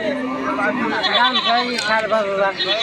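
Close, wavering bleats from a young goat at a goat market, loud and continuous, with people talking underneath.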